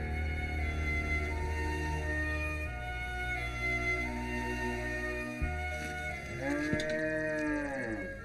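A cow and her calf moo in long, drawn-out calls over a continuous background, with a fresh rising moo near the end; the sound is clear and steady, with no speech.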